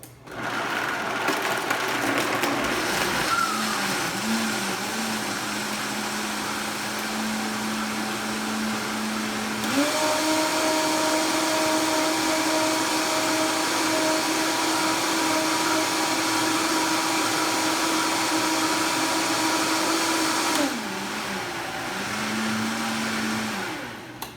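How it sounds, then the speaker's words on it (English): A Vitamix blender whirring as it blends almond milk and a strawberry banana miso smoothie, a loud steady motor drone that shifts pitch as speed changes, rises and sustains, then drops back near the end. "This particular unit has 2 speeds, variable and high. I always start on a variable."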